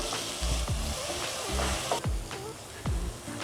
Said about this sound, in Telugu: కొంచెం గరం మసాలా అన్నీ యాడ్ చేసి ఇలా బాగా కలుపుకోవాలి.